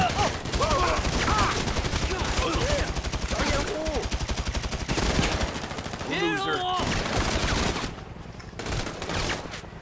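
Sustained rapid gunfire from multiple weapons in GTA V with a police special-operations mod, a dense continuous fusillade of overlapping shots, with shouting voices briefly cutting through mid-way.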